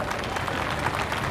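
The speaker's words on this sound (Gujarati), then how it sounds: "જોરદાર તાળીઓ થઈ જાય." An audience claps for a meal donor at a community gathering during a motivational speech, a dense and steady burst of applause filling the room.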